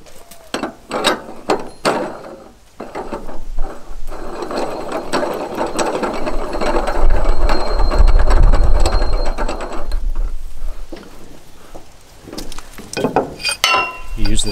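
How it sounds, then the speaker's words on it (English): Tractor wheel clamped down on a Harbor Freight mini tire changer: close ratcheting clicks and metallic mechanism grinding, rising to a dense, louder stretch of cranking before tapering into scattered clicks. "you can clamp the wheel down."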